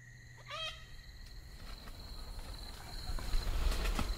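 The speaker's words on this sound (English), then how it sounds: "First, some sounds of the bush" Night sounds of the Australian bush: a faint, distant bird call rises briefly at the start over a steady bed of insect chirring and quiet rustling, with no voices.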